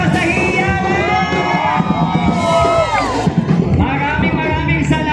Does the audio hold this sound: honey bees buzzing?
no